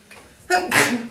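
A single sharp sneeze bursts out close by, a quick breathy intake followed by an explosive, noisy release.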